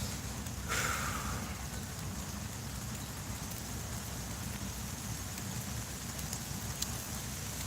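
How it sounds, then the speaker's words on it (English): Light rain falling outdoors, a soft, even hiss of drops that stays steady and fairly quiet for the whole stretch, with no voices. "Oh no, it's raining a little bit."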